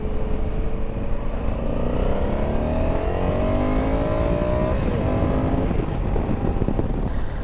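A 2021 Honda Africa Twin adventure sport motorcycle accelerates through the gears, its engine note rising in several climbing sweeps, steady and fairly close throughout with no talk.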